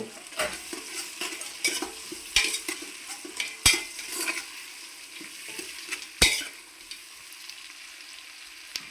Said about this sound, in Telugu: ఇప్పుడు ఇందులో ఈ టమాటా ముక్కలు వేసుకుందాం